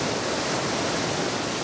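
Floodwater surging through Kathmandu after heavy rain, a dense continuous roar of rushing water with no voices, steady and loud across the whole short stretch.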